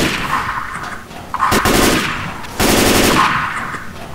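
Rapid automatic gunfire in Left 4 Dead 2 on a Silent Hill map, two loud sustained bursts separated by a short pause, close and dominant.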